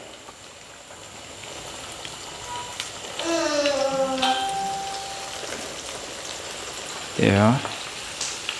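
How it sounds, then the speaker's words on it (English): Chicken deep frying in hot oil in a home kitchen, a continuous crackling sizzle that grows louder partway through, with voices and a short spoken reply over it. "Alright, so nice and deep frying."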